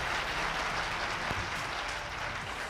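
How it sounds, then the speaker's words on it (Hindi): Sustained, vigorous clapping from an audience at a Modicare business opportunity seminar, a thick continuous roar of many hands at moderate level, steady from start to finish. "ताली या तो बजाओ मत, बजाओ तो जबरदस्त बजाओ"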